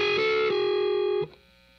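Distorted electric guitar notes from the intro riff of a song ring out together, one sustained chord shifting slightly before being cut off after about a second, leaving a faint decay.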